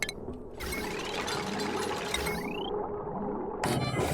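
In a planet-survival video game, a machine pumps air into a canister with whirring, ratcheting mechanical noises and rising synthetic sweeps, ending in a louder burst of machinery; fairly quiet overall and without speech.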